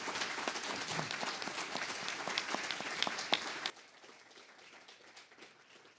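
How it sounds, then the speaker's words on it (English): A seated audience at a community panel discussion on revolution in the Arab world claps for the speakers, a dense, moderately loud applause that cuts off abruptly partway through, leaving quiet room tone. "If you would please thank our speakers with a round of applause."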